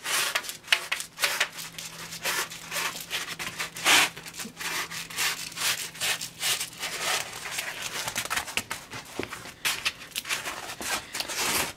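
A wooden wing spar slides and rubs into a slot cut in white foam wing core, a dry scraping and sanding-like friction in short repeated strokes, close up and fairly quiet with no talk.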